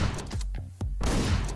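Video game gunfire from Hotline Miami: a quick burst of sharp shots, then a brief lull and more rapid firing, loud and close with no talking over it.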